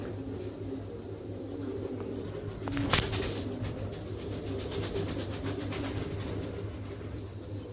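King pigeons, an undulation male and a checker female, coo softly against a steady low hum, with a brief fluttering burst near the middle and faint rustling throughout.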